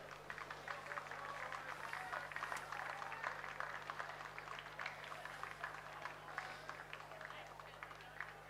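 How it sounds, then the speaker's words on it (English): A crowd claps for the Shore second eight rowing crew at the Scots College Regatta, scattered steady applause heard from a distance over a constant background hum, with indistinct voices mixed in. "Big round of applause there for the Shore second 8"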